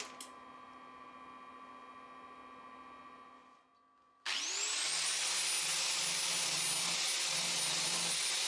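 An angle grinder works down a rod weld on a steel sliding barn-door rail, first a lower whine that cuts out briefly, then a loud, steady high-pitched grinding roar, with no talking.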